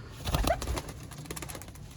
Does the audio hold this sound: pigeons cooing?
yes